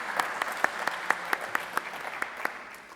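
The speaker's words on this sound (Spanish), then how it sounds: "Un aplauso para Rosé." Audience applause at a health congress as a speaker is welcomed, light scattered clapping with a steady rhythm of distinct claps, moderately near and fading toward the end.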